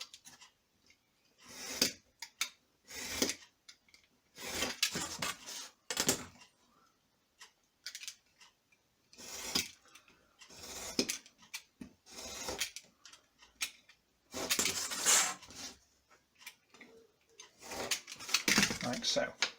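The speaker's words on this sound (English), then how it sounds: "I'm going to cut that out, so just with a ruler and a craft knife" Craft knife drawn along a ruler through book board, a series of scraping, scratching strokes in short bursts with pauses between, fairly close and moderately loud.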